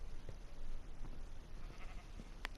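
Sheep bleating as passive mobs in the blocky sandbox survival game SkyJam, a few short, faint bleats spaced across the clip over a steady ambient game background.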